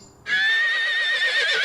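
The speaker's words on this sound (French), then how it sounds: "Il s'appelle Dréméo, c'est un poulain qui est né à la maison" A young foal whinnies loudly and close by at a home stable, one sustained neigh with a wavering, breathy tail.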